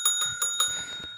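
A small bell on a podcast set is struck four times in quick, evenly spaced strokes, each ringing tone fading briefly before the next, clear and close with no talking.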